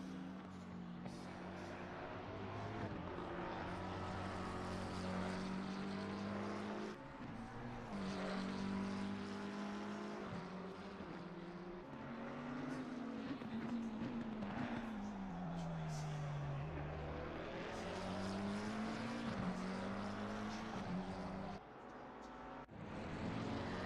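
Sim racing cars in a video game race, engine tones climbing and falling through gear shifts as a small pack runs together, heard faintly and continuously under a commentator talking.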